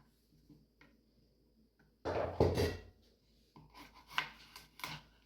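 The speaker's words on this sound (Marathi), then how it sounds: "तर आपल्याला ही काकडी छानपैकी चिरून घ्यायची आहे" A knife finely chops fresh cucumber in bursts of quick, crisp blade strikes against a board, starting after a quiet pause and separated by short gaps.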